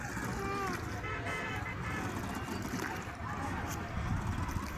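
A boat ride on the Mahananda river: a continuous low rumble and wind buffeting against the microphone, with faint voices murmuring underneath.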